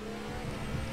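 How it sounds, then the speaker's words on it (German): Race car in the F1 2018 video game losing grip and skidding through a corner at Montreal, a brief steady engine drone with tire noise, close and continuous, no talking. "der Wagen kommt ins Schlittern und ich krieg die Kurven noch nicht mal richtig"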